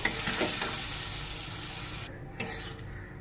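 Spices stirred into an Ilish fish head and taro leaf curry in a pan, a steady close sizzle with light scraping strokes near the start and a brief clatter near the end.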